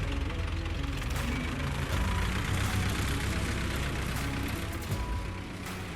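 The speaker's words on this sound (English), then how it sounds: "The sound of that tractor means it is time for us to go to work" A tractor engine runs steadily at close range, a continuous low rumble with a knocking, idling character that holds level throughout and eases slightly at the end.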